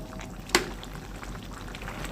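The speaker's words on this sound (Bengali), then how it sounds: "এখন আমি ওই ফোড়নটা দিয়ে দেব এর ভিতরে" Hot spiced tempering hits cooked malabar spinach with prawns in a single sharp sizzle, followed by a soft, low bubbling from the pan.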